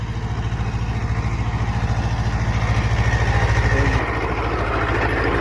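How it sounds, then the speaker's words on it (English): A mini tractor with a rotavator runs with a steady, fast-pulsing engine chug, close and fairly loud, its tone shifting slightly partway through. "So we have this particular equipment, tool, whatever we can say, a tractor and a mini rotavator."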